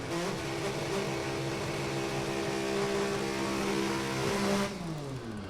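A six-cylinder 06 Cavalier drag car with a clutch and five-speed transmission launches out of the water box at an NHRA drag race, a loud, sustained engine drone that holds strong, then cuts off abruptly near the end.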